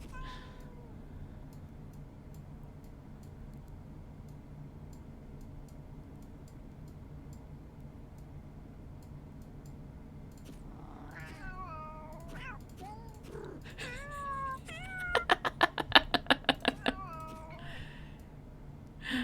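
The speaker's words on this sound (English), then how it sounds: "So many cat sounds." Several cats meowing in a cat-finding video game, sparse short mews at first, then a cluster of overlapping meows, followed by a quick run of ticking clicks, all over a quiet background hum.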